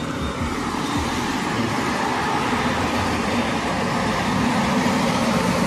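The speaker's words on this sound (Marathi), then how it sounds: "हे बघा कशा गाड्या येतात" Vehicles passing on a busy Mumbai street near Churchgate at night, a continuous loud traffic roar with engines rumbling close by and no talking.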